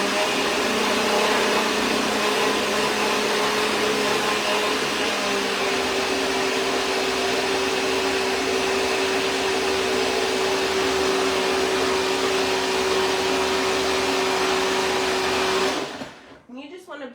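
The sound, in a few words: blender blending a green smoothie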